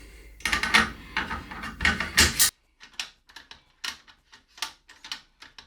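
A bolt slid back into a $10,000 sniper rifle after a screw repair: a loud run of metallic scraping and sliding, then a series of sharp separate clicks and clacks as it seats, close up with no talk.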